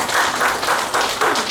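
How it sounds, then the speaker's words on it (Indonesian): A church congregation claps hands for Jesus during a sermon, a dense crowd applause that swells in rhythmic pulses and fills the room. No voices are heard over it. "Tepuk tangan bagi Tuhan Yesus."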